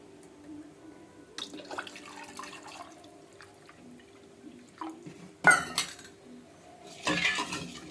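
Water splashes into a creamy mixture in two short, close bursts of pouring, separated by quieter stretches with faint drips and light clinks of a metal vessel and utensils.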